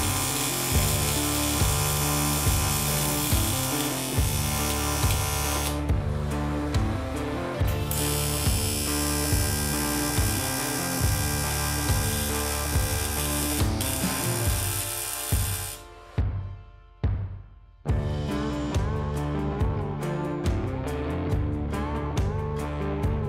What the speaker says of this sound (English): This thing is welding so nice.